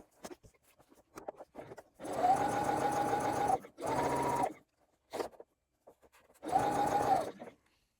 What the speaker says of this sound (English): I'm now going to baste this zipper in place at 1/8 inch